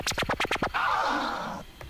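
Tear scratch pattern emulated through VirtualDJ 8.4 ScratchDNA, opening with a fast stutter of about six short record strokes followed by one sustained scratchy drag that trails off, loud and dry with no voices.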